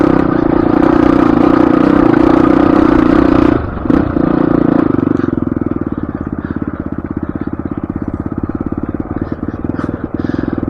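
Motorcycle held in first gear on a rough gully road, engine droning loud and close, then settling into a rapid, pulsing low putter with some clatter.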